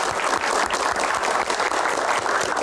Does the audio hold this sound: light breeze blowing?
no